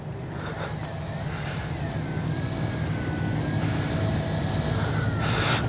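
An electric motor and propeller on a Dynam Beaver V2 RC model airplane hum steadily outdoors, a constant whirring drone with a faint rising whine, fairly loud and unbroken for the whole clip.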